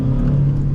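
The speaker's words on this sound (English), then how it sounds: "we're gonna really see how fast this car truly is on a standstill dig" A SEAT Leon 1.6 TDI diesel, running in limp mode, pulls hard from a standstill with a steady loud engine drone and a strong low hum throughout the short burst.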